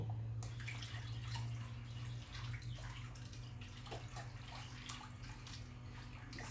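Whole milk is poured into a skillet pot pie sauce, a faint, steady liquid trickle against a low background hum, quiet and close, with no talk.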